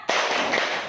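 A classroom of pupils gives a short, loud burst of clapping in a quick spirit-clap pattern. The clap comes on sharply and carries on as a dense wash for about a second. No one talks over it.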